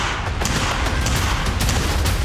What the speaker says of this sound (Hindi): ये रोबोट 360 डिग्री घूमकर फायरिंग कर रहे हैं।